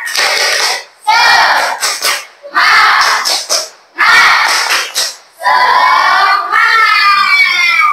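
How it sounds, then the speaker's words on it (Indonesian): Children in a classroom doing a spirit clap-and-chant routine, loud shouted bursts with clapping in quick rhythmic groups separated by short pauses, followed by a longer stretch of voices together. "kita tepuk semangat dulu. Tepuk semangat."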